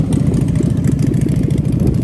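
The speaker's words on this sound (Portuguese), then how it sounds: "Puma, olha que moto bonita." A motorcycle engine idles close by at a classic car and motorcycle show in Rio, with a steady, throbbing rhythmic putter, loud and unbroken throughout.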